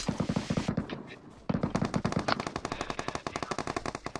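Rapid automatic gunfire from a video game weapon aimed at a monster truck, loud and close, in fast rhythmic bursts with a brief lull before the firing resumes steadily.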